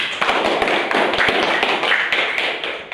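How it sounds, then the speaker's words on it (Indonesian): Schoolchildren in a fourth-grade classroom clap for a group that has just finished presenting. The clapping is dense, quick and fairly loud, a steady rush of many small hands carrying through the whole stretch. "kasih tepuk tangan untuk kelompok 1"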